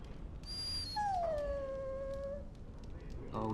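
Dog in Dragon Age: Origins giving a drawn-out whimpering howl, a thin high whine that slides slowly downward for over a second, with soft yips around it over a low ambient background.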